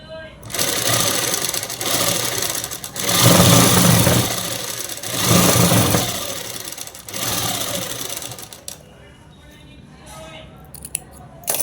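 Sewing machine stitching fabric for a child's frock, running in several bursts of fast, rattling motor noise that start and stop, then falling quiet near the end with small handling clicks.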